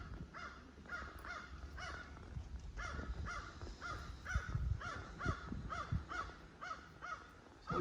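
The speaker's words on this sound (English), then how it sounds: "Sounds like we got a crow." A crow caws repeatedly in steady bursts of harsh calls, fairly close and clear over a low rumbling background hum.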